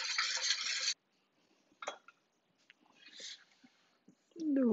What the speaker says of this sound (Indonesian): Sampai tercampur semuanya.